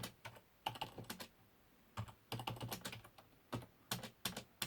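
Keys clatter on a computer keyboard wired to a NASCOM 2 computer recreated in an FPGA, in quick bursts of several presses separated by short pauses, close and crisp with no talking.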